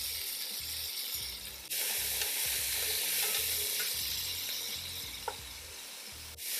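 Birria meat sizzles steadily in a hot pan after being flipped, a loud continuous frying hiss with a sharper burst partway through and occasional faint clinks, no talking.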